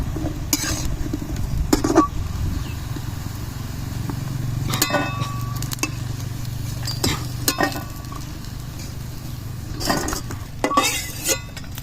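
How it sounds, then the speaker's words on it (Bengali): Besan (gram flour) fritters fry in hot oil with a steady low sizzle, joined by intermittent clinks and scrapes of a utensil against the pan, close and moderately quiet. "এইভাবে সব বেসনগুলো আমি ভেজে নিচ্ছি।"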